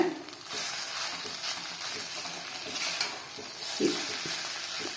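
Tomato semiya upma is stirred in a pan after simmering under a lid, a soft steady sizzle broken by scraping spoon strokes and a few light knocks against the pan, close by with no talk.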